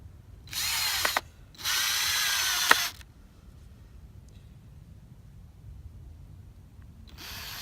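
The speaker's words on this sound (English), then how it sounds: "Let's put some screws in there for now, just so it doesn't move." Two short bursts from a power drill driving screws into a wooden BMX/MTB kicker ramp, whirring loud and close, with a click between, then quiet handling noise and a third burst starting at the end.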